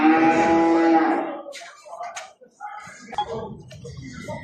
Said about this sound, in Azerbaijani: Erkek danalar